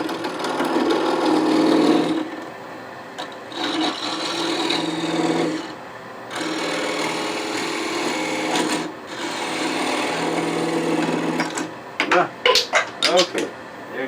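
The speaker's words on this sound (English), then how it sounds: "I can just about part that off now. I think I may use a thin parting tool to do that." A thin high-speed steel parting tool cuts into hard bubinga wood spinning on a lathe, a whirring motor hum with raspy cutting passes in bursts, broken by short pauses and a few sharp clicks near the end.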